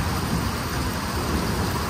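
Steady heavy rain pours during the first summer thunderstorm in eastern Kentucky, a dense continuous hiss with low rumbling underneath, loud and close with no voices.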